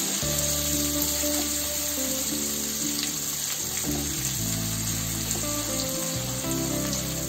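Chopped tomatoes cook in a pan over a low flame for a vrat samak pulao, giving a steady soft sizzle and watery bubbling that runs unbroken beneath a sustained tonal music bed.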